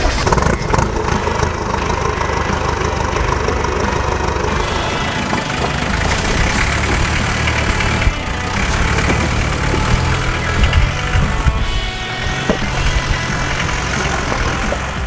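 Land Rover fitted with a Defender 2.5 liter turbo diesel, idling loudly and close with a steady rough clatter and continuous low rumble that holds for the whole stretch.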